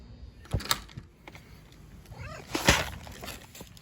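A gray cat gives a short, faint meow that rises and falls amid quiet rustling and a couple of clunks, with a second brief cry near the end.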